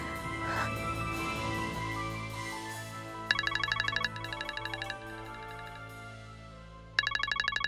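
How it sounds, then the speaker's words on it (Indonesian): A mobile phone ringtone chimes in repeated bright electronic bursts over soft background music in an Indonesian TV drama scene, stopping briefly and then starting again, clear and fairly close with no talk. "Saya harus terima telepon ini"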